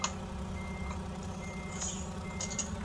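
A Mack Cruiseliner truck backs up a trailer in American Truck Simulator, its steady engine drone running under a string of high, repeating reverse beeps, with a faint air-brake hiss.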